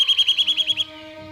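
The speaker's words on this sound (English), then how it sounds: "Other forest birds are the nuthatch" A nuthatch gives a rapid series of about eight sharp, evenly spaced high-pitched calls, clear and close, then falls silent.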